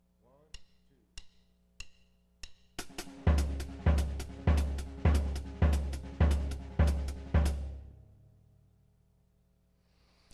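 Drum kit playing a five-note sticking pattern with the right hand moved to the hi-hat: a few sparse opening strokes, then a steady repeating groove of crisp cymbal and drum hits, loud and close, ending in a fading ring.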